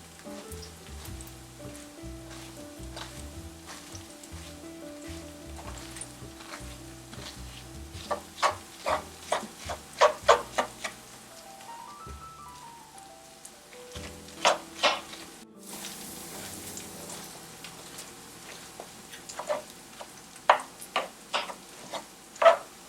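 Onions sautéing in a pan give a soft, steady sizzle, punctuated by a series of sharp clicks and scrapes from stirring, with a low hum and faint background music underneath.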